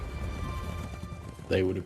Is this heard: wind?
no